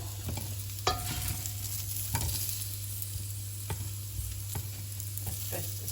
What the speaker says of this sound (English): once your potatoes are starting to get a little crispy on that side, just go ahead and flip them all over